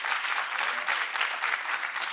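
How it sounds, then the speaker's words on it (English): A brief burst of audience applause at a community engagement event, steady even clapping that fills the whole moment. "Let's give them a round of applause."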